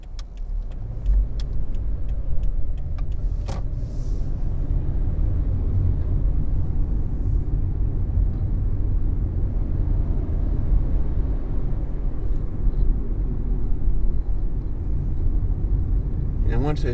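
A car drives along a road, its steady low engine and tyre rumble running throughout with wind noise rushing over the body, loud and continuous for the whole stretch.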